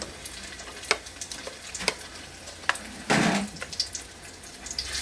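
Small chicken strips frying in hot oil, a faint steady sizzle broken by sharp clinks and stirring scrapes, with one louder splashy burst midway; no talk.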